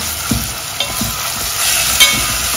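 Crushed garlic, ginger, green chili, green cardamom and a small piece of cinnamon sautéing in hot oil in a pan for a Maharashtrian bitter val bean dish, a loud steady sizzle broken by a few soft scrapes of a spatula stirring.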